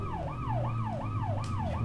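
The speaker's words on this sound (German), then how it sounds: "Und wir haben ja auch eine Sirene." A police car siren in the video game World's Scariest Police Chases wails in a fast, repeating up-and-down sweep, steady and prominent over a low engine rumble.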